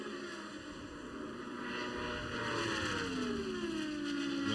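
An Indy car engine at the Indy 500 holding high revs in sixth gear in the draft, a steady loud whine whose pitch bends and climbs as the car passes, with no talk over it.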